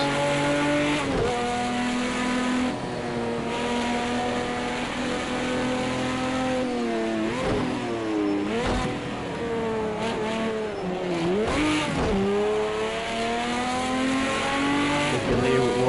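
A race car engine in the Project Cars 2 driving game winds up loudly through the gears on cold tyres. Repeated rising revs are cut by quick shifts, with brief tyre squeal in places.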